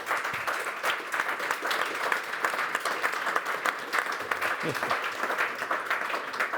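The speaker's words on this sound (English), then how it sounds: "I suggest to give a big round of applause to our speakers today." A conference audience claps steadily after a solar energy panel, a dense, sustained round of applause filling the room from start to finish.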